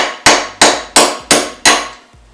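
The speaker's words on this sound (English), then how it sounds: "we're gonna go ahead and just take a hammer and bang these guys out" A hammer strikes metal parts five times in a steady rhythm, each blow loud, close and sharp with a brief ring, while knocking components out during an Exocet kit car build in a workshop.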